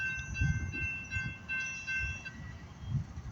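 A northbound CSX freight train on the Harrison subdivision near Springfield, Tennessee, sounds its horn in sustained chord blasts heard from a distance, over a low rumble of the train.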